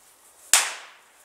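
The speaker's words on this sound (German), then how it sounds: "Weco Pyrocracker." A Weco Pyrocracker firecracker goes off with a single sharp, loud bang whose bright crack decays over most of a second, with only faint background hiss before it.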